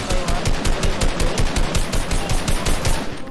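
Fortnite gunfire, loud, close automatic bursts of rapid evenly spaced shots running continuously for a few seconds, with no voices.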